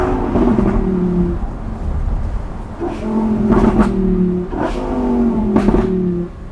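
Repeated revving from the V10 of an open-top Lamborghini Huracan, near and loud, rising in three distinct bursts with short dips between them.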